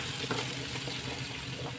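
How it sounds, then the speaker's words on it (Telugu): Curry ingredients fry steadily in a pan, a continuous close sizzle with soft crackles and occasional stirring scrapes, no voices over it. "ఇంకొంచెం ఫ్రై అవుతుంది."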